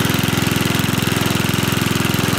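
Petrol lawn mower engine just started on fresh fuel, running at a steady fast-pulsing idle, close and loud, with no voices.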